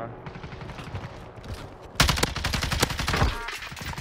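Gunshots in the video game Warzone: quieter scattered shots at first, then a sudden burst of loud, rapid automatic fire for the remaining couple of seconds.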